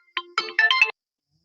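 A mobile phone rings with an incoming call, a bright electronic ringtone of several quick melodic notes played once, clear and close, then abrupt silence.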